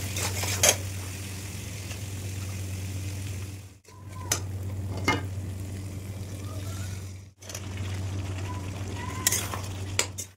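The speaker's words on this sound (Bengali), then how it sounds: "ঝিঙ্গাটা আমি হালকা করে একটু ভেজে নিলাম।" Ridge gourd lightly frying in a pan while being stirred, with a steady hum beneath and sharp scraping clicks of a utensil against the pan; the sizzling drops out briefly twice before resuming.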